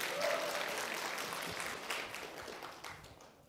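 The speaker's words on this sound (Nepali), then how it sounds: "ताली बजाइदिनुहोस्।" A church congregation applauds during a Nepali sermon, a burst of clapping that starts strong and gradually thins and fades over a few seconds, heard from a moderate distance in the hall.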